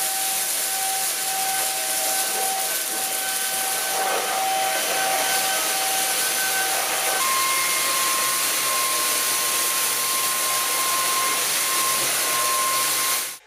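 An INSE S600 vacuum cleaner runs continuously with a loud, even airy hiss and a thin whining tone that shifts pitch partway through, then cuts off abruptly at the end.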